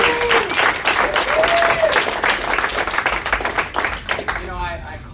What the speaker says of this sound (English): Let's get a huge round of applause for this man.